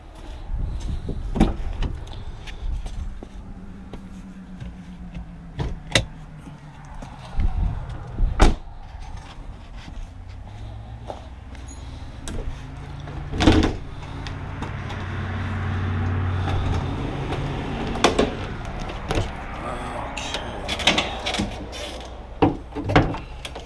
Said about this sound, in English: we'll open the hood here real quickly